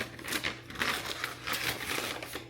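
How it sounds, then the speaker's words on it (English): A book package is unwrapped, with crinkling, tearing bursts of paper or plastic coming in several close, uneven surges. "now let's go ahead and unwrap this"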